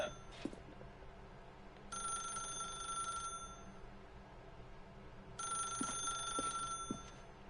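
A telephone ringing in the video game The Stanley Parable, two long bright electronic ring bursts separated by a pause, with faint clicks and room noise between them and no speech.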